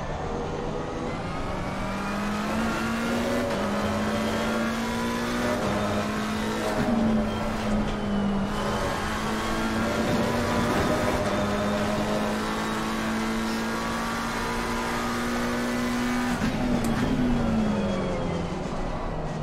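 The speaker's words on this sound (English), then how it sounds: "There's 36 cars starting the race" A large pack of about 36 race cars starts a race in an esports sim-racing event at Valencia. Many engines drone and rev together, with rising pitches and up-shifts, loud and continuous with no break.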